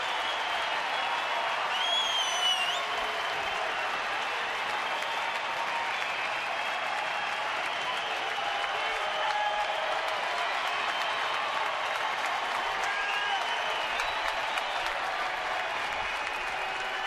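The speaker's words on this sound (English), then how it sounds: "The crowd coming to their feet." A baseball crowd at a major league game applauds and cheers steadily as fans rise to their feet, a dense, continuous wash of clapping heard from a distance with no clear talk.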